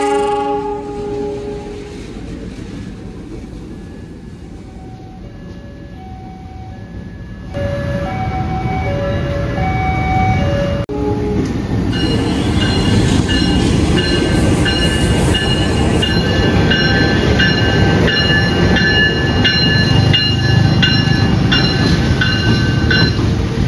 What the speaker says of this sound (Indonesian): ini lokomotif maju langsir. Persiapan mengambil panoramiknya.